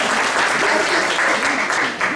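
An indoor audience at a media library event in Maussane-les-Alpilles greets an arriving guest with dense, sustained applause that stays loud and close for the whole stretch.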